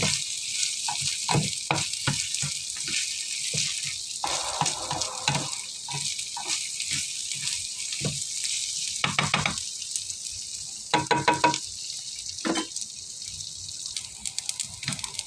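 Rice being stirred and coated in oil in a pot for Hainanese chicken rice makes soft scraping and light sizzling, with irregular clinks and stirring strokes recurring throughout at a moderate, close level.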